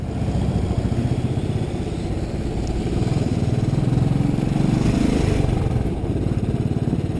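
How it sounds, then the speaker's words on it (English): A 2019 Royal Enfield Classic 500 motorcycle engine runs steadily nearby with a rough, thumping, pulsing note and a bit of mechanical clatter. "It's a very, very agricultural engine noise."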